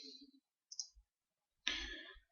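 Sharp computer mouse clicks used while setting up a business social media management app, appearing as a couple of brief isolated clicks followed by a louder, fuller click burst, close and alone with no talk.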